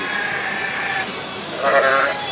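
A three-year-old fat-tailed sheep bleats at an agricultural livestock expo, with wavering calls and a louder bleat near the end, set against a busy crowd murmur and nearby voices.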